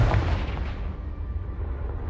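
A Confringo spell explodes in Hogwarts Legacy, a loud, deep booming blast that rumbles and slowly fades over a couple of seconds.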